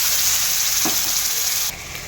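Hot oil sizzles steadily with a bright, hissing crackle as ground spice paste fries over browned onions, briefly interrupted by a soft scrape, the frying noise dropping slightly near the end.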